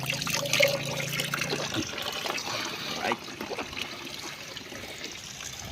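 Clear mountain spring water trickles and splashes steadily nearby, a continuous bright liquid flow with a faint tone early on and occasional louder drips.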